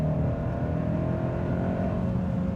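A turbocharged 2025 Hyundai Santa Cruz XRT pickup accelerating hard uphill, a loud continuous engine roar with a rising drone, heard close from inside the cabin with no talk.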